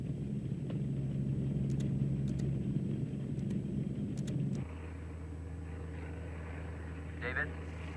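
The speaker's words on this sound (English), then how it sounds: "researchers ride a flying laboratory into the eye of the storm" A research aircraft serving as a flying laboratory flies into a hurricane's eye, its cabin filled with a loud, steady low rumble that shifts to a lower, smoother drone partway through.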